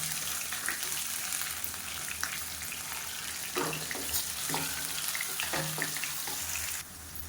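Chopped onions frying in hot oil with mustard seeds and fennel in a home kitchen, a steady loud sizzle with occasional crackles and pops and faint stirring, no talk.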